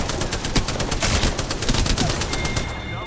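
Rapid gunfire in the Apex Legends video game, bursts of automatic shots crackling loudly and steadily across the whole moment amid busy battle noise, with a player's voice audible underneath.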